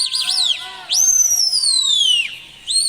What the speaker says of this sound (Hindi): सुफियान भाई ने चकाड़ना शुरू कर दिया।